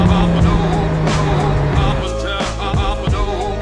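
An expensive supercar engine revving hard under acceleration, a loud, close, throaty roar with a rising tone, then sharp bursts as gears change.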